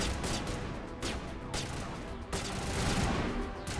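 Continuous video-game gunfire from Mass Effect, a dense rapid barrage of shots with sharp bursts throughout, loud and sustained, with little else audible.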